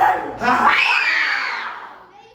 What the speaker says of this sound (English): He's screaming like a little girl.